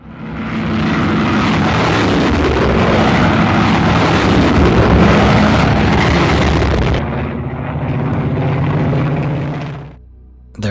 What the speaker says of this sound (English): I was able to find an original recording of a UMO 213 engine from World War II